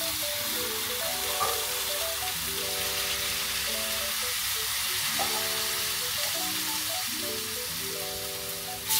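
Pasta and sauce sizzle steadily in a hot pan, a soft constant hiss under a loud background of repeating musical tones that covers much of it.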